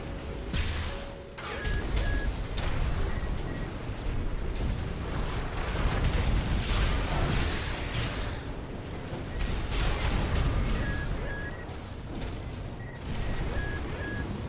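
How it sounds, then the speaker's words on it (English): Artillery shells bursting during a mech battle in the video game Armored Core VI, a dense, continuous roar of heavy blasts and rumbling impacts with no voices over it. "those are the artilleries"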